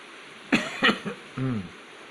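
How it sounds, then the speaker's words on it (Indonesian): Someone nearby coughs a few times in quick succession, then gives a short throat-clearing grunt, against quiet background hum. "Batuk teman-teman."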